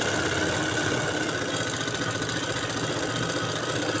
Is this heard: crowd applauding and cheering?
no